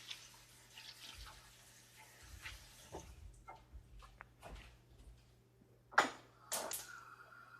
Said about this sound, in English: Let me just wash my hands really quick. Give them a good rinse.